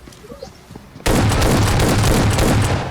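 A loud, abrupt blast from a shotgun in a shooting video game breaks in after a quiet second and is followed by a sustained, booming roar.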